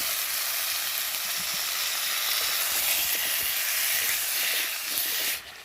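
Cut potatoes sautéing in a spiced masala in a pan, giving a steady broad hiss and sizzle with faint scraping and stirring ticks, fairly loud and continuous until it drops away at the end.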